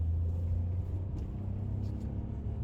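A manual Citroen C3 with a 1.2 petrol engine pulls at full throttle in second gear, a steady low engine drone and road rumble heard from inside the cabin without speech.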